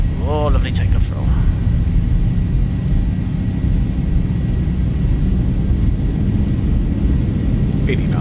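Boeing 737 engines at takeoff thrust in a flight simulator, a steady loud broadband roar and rumble that holds constant throughout, with brief tonal chirps near the start and end.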